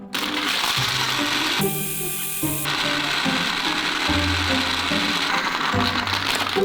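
A Ninja Blendboss blender runs its motor hard, with a loud steady whirring and grinding that briefly shifts pitch partway through, pushed near to burning out.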